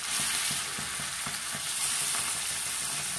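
Small sudai (sardine) fish fry in hot oil over a medium flame, a loud, steady crackling sizzle throughout with no talking.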